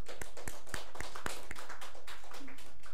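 A church congregation claps to welcome children at a year-end worship service, with a series of sharp, evenly spaced claps ringing out over a soft murmur.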